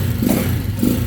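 A 2021 Janus Halcyon 250 motorcycle engine runs close by, a quiet, low, steady hum that swells in two brief revs.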